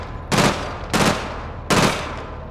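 Three short, loud bursts of automatic gunfire in APB Reloaded, evenly spaced and heard alone without talk.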